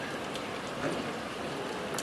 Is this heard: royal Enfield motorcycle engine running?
no